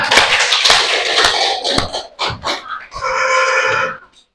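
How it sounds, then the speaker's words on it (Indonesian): A classroom of students claps together, loud and close, in a dense burst of applause that pauses briefly, swells again and then stops abruptly. "aplaus dulu untuk kalian semua"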